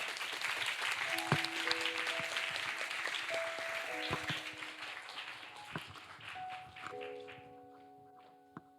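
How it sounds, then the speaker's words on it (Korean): Church youth worship audience welcoming a performance-team speaker with applause: a wash of clapping under sustained keyboard-like tones, gradually thinning out, with a thump or two near the end. "우리 큰 박수로 한번 맞이해 보도록 하겠습니다"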